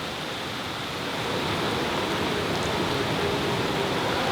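Heavy rain pours down steadily at an oceanside campsite in Costa Rica, a dense, constant hiss that holds at the same loudness throughout with no voices.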